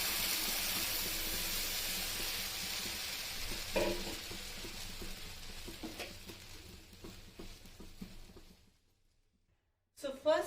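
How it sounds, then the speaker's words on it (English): Watermelon halwa is stirred in ghee over a medium-high flame, giving a steady bright sizzle with scraping strokes that fades out near the end, followed by a brief clatter. "first starting 5 minutes we need to stir this in medium high flame"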